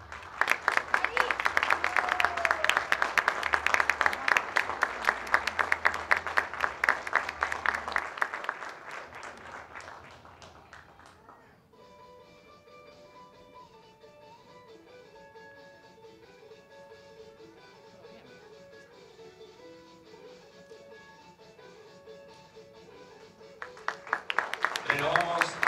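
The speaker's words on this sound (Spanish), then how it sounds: "Renovamos los aplausos para quienes serán las nuevas autoridades." An audience at a ceremony proclaiming new municipal authorities breaks into loud, sustained applause for about ten seconds, which then fades out. A quieter stretch with a steady tonal sound follows, and a fresh burst of clapping comes in at the end.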